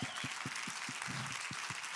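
Congregation at a church service applauding, a steady wash of clapping hands filling the room with no voices over it, fairly distant and even in level.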